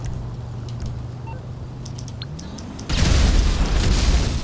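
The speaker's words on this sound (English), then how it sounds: "How many rockets will this thing take?" A single loud, broadband blast of rocket explosions hits the Menacer military vehicle in GTA Online, bursting in near the end after a steady low engine drone and lasting to the close.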